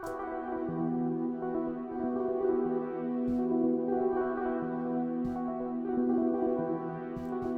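A synthesized melody with bright, bell-like FM tones from a Metro FM preset plays steadily over a sustained pad, with occasional percussive hits punctuating the phrase.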